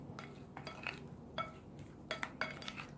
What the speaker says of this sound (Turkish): Şimdi bu sosumla karıştırıyorum patateslerimi.